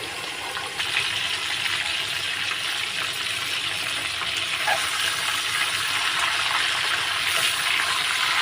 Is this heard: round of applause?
no